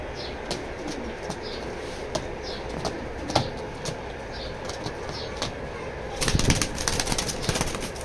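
A pigeon of the Nat breed is let go from the hand and beats its wings in a short, loud flurry of flaps near the end, after a steady stretch of outdoor background noise.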